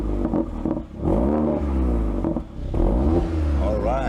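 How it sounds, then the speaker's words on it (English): The 2018 Mercedes-AMG CLA45's four-cylinder engine and sports exhaust rev repeatedly, close and loud, each blip rising and falling in pitch with short pauses in between. "Does this 4-cylinder boy sound at all like a true AMG?"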